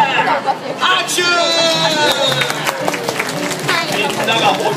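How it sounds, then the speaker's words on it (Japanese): Audience at the Toy Story Mania Potato Head show at Tokyo DisneySea claps and cheers in a dense, steady burst, with lively crowd chatter and a few higher voices mixed throughout. "拍手。"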